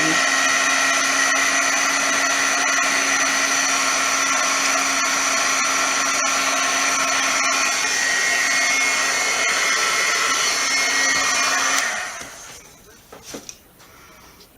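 An embossing heat tool blows over a card with a loud, steady whirring drone and a high whine, running for about twelve seconds before switching off and winding down, followed by a few faint clatters.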